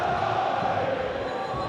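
Steady roar of a football stadium crowd at a 2005 top-flight match, a loud continuous wash of voices with no breaks from start to finish.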